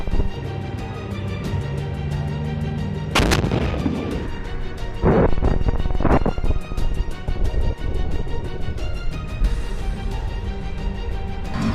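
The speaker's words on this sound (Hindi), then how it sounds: "जैसे ही आईडीएफ का टैंक वहां आता है वैसे ही बारूद में ब्लास्ट हो जाता है, जिससे टैंक में जोरदार धमाका होता है।" Explosives blast an IDF Merkava tank in a war zone, with sharp loud booms and bursts breaking through a dense, continuous roar of battle noise.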